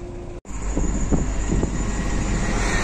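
Steady broadband engine roar of an airplane passing overhead near Dobropillia, Ukraine, loud and continuous, with gusty wind noise.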